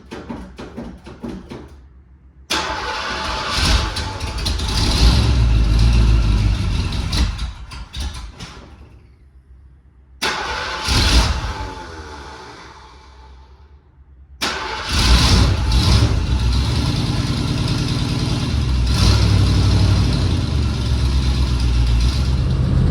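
A 1978 Ford Bronco barn find, not driven since 1996, cranks several times with pauses between attempts. It then catches and settles into a loud, rough idle close by.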